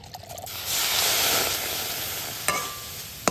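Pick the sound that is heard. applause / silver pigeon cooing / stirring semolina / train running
stirring semolina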